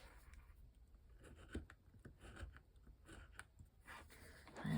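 Scissors trim the corners off a paper tag album, a quiet run of small crisp snips and rustles close by, spaced unevenly with soft paper handling between cuts.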